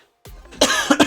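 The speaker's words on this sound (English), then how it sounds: "I'm sorry for the coughing." A short burst of coughing, one rough cough followed by two quick harsh hacks within about a second, close and loud with nothing else present.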